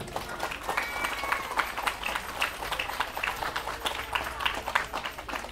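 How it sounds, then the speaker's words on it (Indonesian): An audience claps for santri at an Islamic religious gathering, a moderately faint, busy patter of applause with uneven bursts and no voices on top. "Tepuk tangan untuk para santri"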